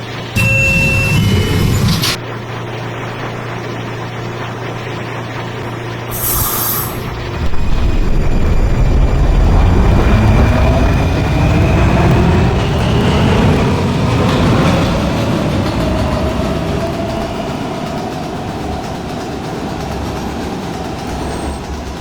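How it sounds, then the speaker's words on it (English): A westbound D subway train pulls out of 26th Street–St Marks Ave station and runs toward the next stop, with a brief chime and door sounds followed by a loud, rising motor whine and steady rumbling wheels heard from inside the car. "This is a Westpoat bound D train."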